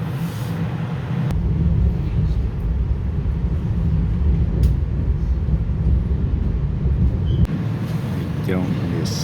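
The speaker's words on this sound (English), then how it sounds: "I don't remember these train cars being this loud when we're going faster on the Northeast Corridor." A commuter rail car running at speed on the track, a loud continuous low rumble and roar from inside the train, steady throughout with a couple of sharp clacks.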